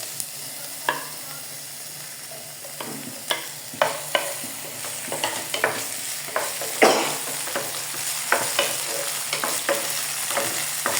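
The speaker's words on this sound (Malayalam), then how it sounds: "സൺഫ്ലവർ ഓയിൽ ഒഴിച്ചിട്ട് അതിലേക്ക് നമ്മൾ ഇഞ്ചിയും വെളുത്തുള്ളിയും കറിവേപ്പില പച്ചമുളക്" Ginger, garlic, curry leaves and green chillies frying in sunflower oil for samosa filling, a steady low sizzle broken by scattered stirring clatters and pops, close by with no talking.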